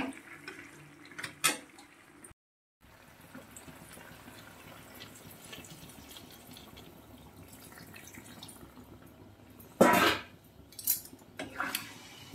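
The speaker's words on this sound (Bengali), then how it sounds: "এবার জল দিয়ে দেব।" Water poured into a pot of browned mutton curry, a brief loud splashing gush near the end following quiet kitchen clatter, with a few clinks of utensils.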